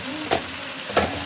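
Water spinach (kangkung) frying in a hot pan, with a steady sizzle and two quick stirring scrapes, close by and with no talking.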